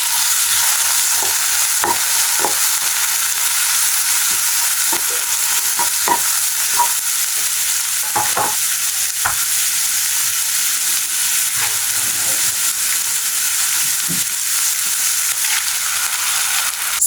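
Wilted onions and carrots stir-fried with a little water in a pan, giving a continuous bright sizzle and hiss broken by scattered scrapes and clinks of the spatula.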